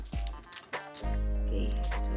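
A Tamiya Mini 4WD car runs with a broken propeller, giving a steady, loud mechanical whirr with strong low hum and a brief rattling start, close up with no talking.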